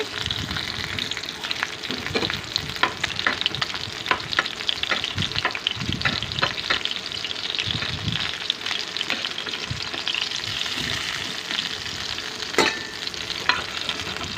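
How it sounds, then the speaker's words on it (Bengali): Pieces of hilsa fish and three dried red chillies frying in hot oil in a pan, a continuous close crackling sizzle with frequent stirring scrapes and pops, no voices. "সাথে তিনটা শুকনা মরিচ ভেজে নিচ্ছি"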